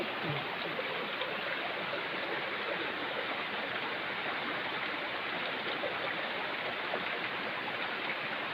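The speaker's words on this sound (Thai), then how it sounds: "นี่น้ำตกพี่น้อง" A steady, broad rush of falling water from Tat Ton waterfall roars continuously, fairly even and unbroken, with no voices.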